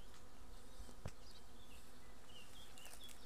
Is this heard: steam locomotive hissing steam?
no